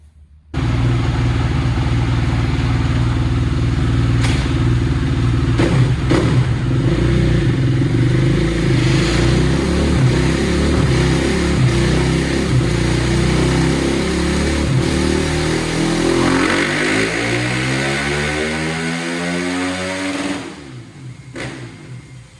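A KTM 450 dirt bike engine roars loud and close for about twenty seconds, revving hard and climbing through gears in a sustained acceleration run before the sound drops away near the end.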